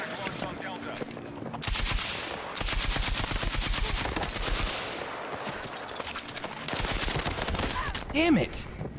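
Automatic gunfire in the Battlefield 6 video game, loud rapid bursts with short pauses between them and another weapon chattering alongside, with a voice briefly under the shots.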